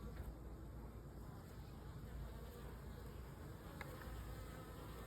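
Bees hum around a bucket swarm trap, a faint, continuous buzzing drone heard at low volume outdoors, with a couple of brief ticks.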